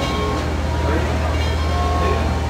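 A train idles at a trackside station where passengers wait to board, giving a steady low rumble with a faint hum above it that holds throughout.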